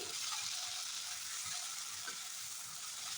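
Chopped tomatoes hit hot oil with tempered spices for a vegetarian chana masala, setting off a steady, bright sizzle. The sizzle runs unbroken and fairly close, with no talking.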